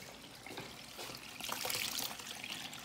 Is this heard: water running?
yes